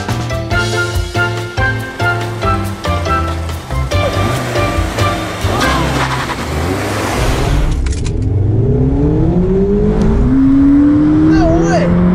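A 2019 Mazda Miata launches hard, its engine revving high toward a 7,500 RPM redline, loud and close, then the roar thins as the car pulls away and wind noise rises.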